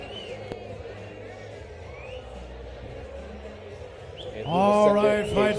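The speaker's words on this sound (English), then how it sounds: "The crowd is really opening up for this one." Crowd at a live MMA fight night in a casino, rising into loud cheering and shouting near the end after a quieter stretch of low murmur.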